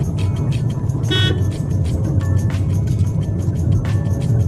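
A car rolls slowly in second gear over a speed breaker on a city street, its low engine hum steady beneath surrounding traffic noise and several short horn toots from other vehicles.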